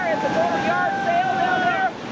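Churning white water rapids on the Lower New River in West Virginia, a dense steady rush of water and wind noise beneath faint wavering shouts and voices of rafters, continuous and fairly loud before easing slightly at the end.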